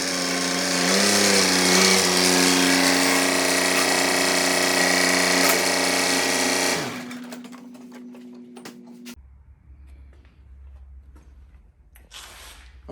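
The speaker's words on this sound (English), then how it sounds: "you've got your grease gun, you got a M12, M18, and we're gonna grease up this tractor" A Milwaukee M18 cordless grease gun motor hums steadily up close for about seven seconds while pumping grease for a tractor, then stops, leaving a faint fading tone and quiet.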